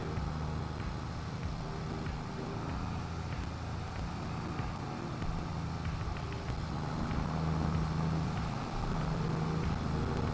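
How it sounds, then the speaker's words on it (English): Tractor engine in the Farming Simulator 22 video game on the Erlengrat map, a steady, deep, meaty running drone that holds constant throughout, with a slight rise in intensity partway through. "I really like the sound of this tractor."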